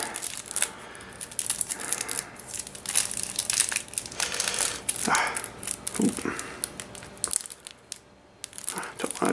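Plastic and cardboard packaging of a Yu-Gi-Oh Machine Reactor Structure Deck crinkles, crunches and tears up close in irregular handling bursts, loud and busy, easing to quieter rustles near the end.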